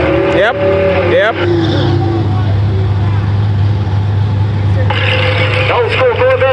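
An old school Corvette and a Mustang line up for a no prep drag race, their engines revving hard at the start and again later, with a deep steady rumble in between and people talking over it.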